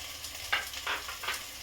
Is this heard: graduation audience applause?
no